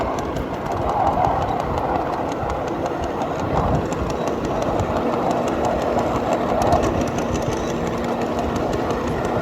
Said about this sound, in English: You can hear the pine needle on the wheel.